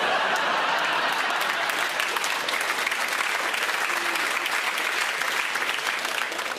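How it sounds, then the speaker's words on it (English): A live audience applauds steadily throughout, dense continuous clapping from a large crowd in a hall with no pauses and no voice over it. "You know why you're clapping, right?"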